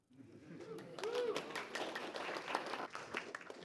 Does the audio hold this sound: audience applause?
yes